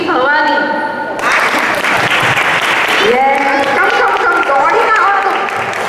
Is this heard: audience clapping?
yes